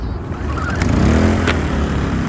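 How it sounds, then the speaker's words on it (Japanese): A small EENOUR GS900i-B inverter generator running on butane cassette gas canisters starts with the choke set, its engine catching and settling into a steady, close, fairly loud hum. "エンジンスイッチをオンにしてチョークを軌道の位置に合わせエンジンを始動します"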